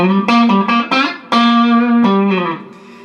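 An electric guitar plays a short run of sustained notes through a Vox VT80 modelling amp on a preset, each note ringing with a light reverb tail that fades at the end.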